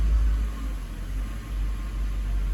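A 2002-2005 Ford Thunderbird engine idling in park, a steady close low rumble with no talk.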